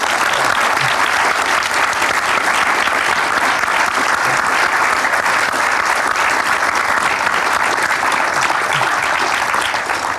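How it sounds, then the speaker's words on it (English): Sustained audience applause at a BAFTA showcase for the game Life is Strange fills the room, a dense, steady wash of many hands clapping at even loudness from start to finish with no talk above it. "Let's give them a large round of applause, please."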